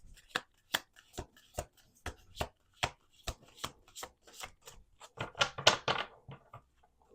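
A deck of oracle cards is shuffled by hand during a card reading, giving a close, steady run of crisp papery slaps and riffles that build into a denser flurry near the end.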